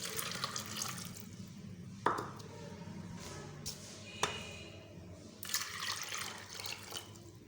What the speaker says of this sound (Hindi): इसके अंदर ऐड करेंगे 2 प्लेट पानी की।